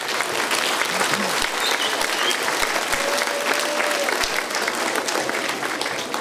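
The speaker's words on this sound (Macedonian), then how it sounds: "Да ги поздравиме и сите ученици од 6-то оделение со еден аплауз." An audience at a school celebration applauds sixth grade students, a sustained, even wash of clapping at moderate volume with a few faint low thuds beneath.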